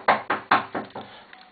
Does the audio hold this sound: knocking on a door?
yes